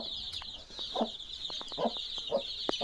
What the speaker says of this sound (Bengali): এই হচ্ছে আমার বিগ সাইজের মুরগি।